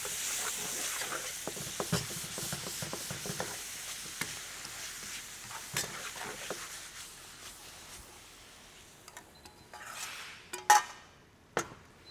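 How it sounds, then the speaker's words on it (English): Pork coated in a chilli and galangal marinade with a fish sauce glaze sizzles in a pan during a final fry, with steady frying hiss, stirring scrapes and occasional sharp utensil clinks near the end. "and fish sauce mix onto the pork, and then into the last fry"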